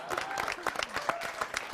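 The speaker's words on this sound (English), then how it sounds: "Give them all a round of applause" Applause from a comedy show audience, a brief burst of mixed clapping with some crowd noise, moderately loud and steady throughout.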